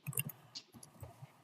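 Fingers tap a computer keyboard in a light, irregular run of soft clicks, close and quiet, with brief pauses between keystrokes.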